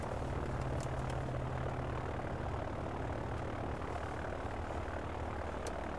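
A steady, droning aircraft engine runs throughout, loud and close, with a constant low rumble and no voices.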